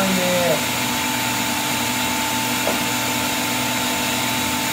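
Food processor chopping an oil-based herb paste for prime rib, a steady continuous motor whir with a brief higher pitch at the start, running throughout.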